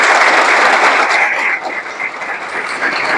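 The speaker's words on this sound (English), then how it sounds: "So let's welcome him with a big round of applause." Audience applause welcoming a recommended candidate who is about to join the Officer Training Academy at Chennai, a loud, dense clapping that carries steadily, dipping slightly midway before swelling again.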